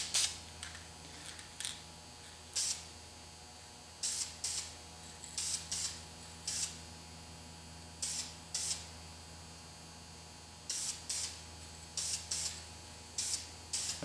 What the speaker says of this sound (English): When you're spraying this, you don't want a heavy coat because you want it to just bake into the rubber.